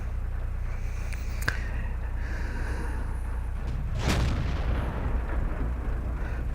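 A tank's main gun fires in a video game, a sharp close boom followed later by a second broad blast over a constant low engine rumble, with no talking.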